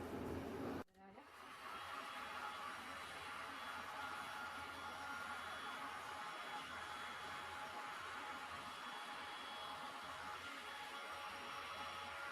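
A hair dryer blows air over a resin art ocean piece, a continuous close whooshing hum that starts after a brief click and holds steady throughout.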